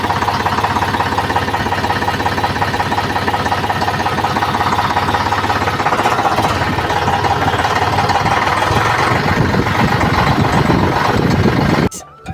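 A tractor engine runs at idle nearby, a loud, steady, low rumbling chug with a regular knocking pulse that roughens slightly toward the end before cutting off.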